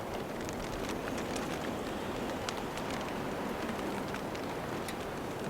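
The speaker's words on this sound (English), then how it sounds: "There's big pieces of frozen rain and snow combined." Big pieces of frozen rain and snow pelt a hot tent during a windy winter bushcraft camp, a steady dense patter with scattered sharper ticks from close overhead, no voices.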